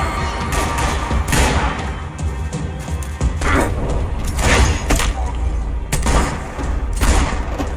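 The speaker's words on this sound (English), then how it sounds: "Gunfire over Hoboken." Steady stream of booming gunshots and thuds from a Max Payne 3 battle over Hoboken, dense and loud, with a voice speaking over the din.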